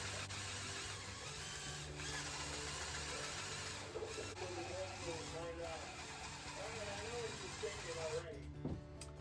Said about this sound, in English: I'm going to lap it a little bit more because I want that to be shiny.